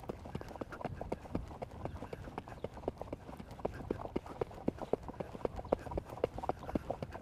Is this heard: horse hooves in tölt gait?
yes